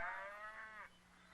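Cattle moo on a farm in an old 1966 film soundtrack, a faint, drawn-out bovine call that wavers for about a second before fading into quiet.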